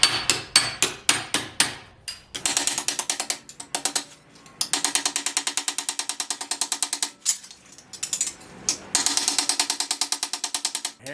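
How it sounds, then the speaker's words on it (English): A flat hammer strikes sheet metal against an I-beam to roll an edge on a '55 Chevy wagon roof corner, sharp metallic blows in fast, steady bursts with short pauses between runs. "for this part, I'm going to use the flat hammer"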